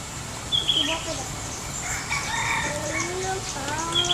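A young rooster gives a thin, reedy crow at moderate distance, with other fowl clucking and chirping faintly in the background.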